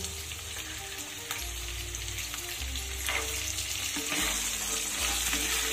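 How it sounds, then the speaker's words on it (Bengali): Potatoes and soaked chickpeas fry together in a pan, giving a steady close sizzle with occasional stirring scrapes and a low background hum. "ছোলা দিয়েও এবার আলুটার সাথে কিছু সময় ভেজে নিতে হবে।"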